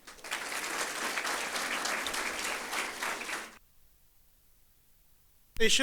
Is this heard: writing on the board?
no